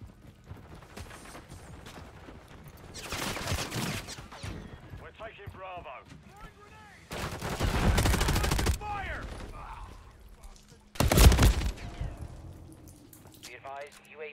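Gunfire in Modern Warfare 3 crackles in several bursts, with a long heavy volley in the middle and a sharp loud burst near the end, under and between voices talking.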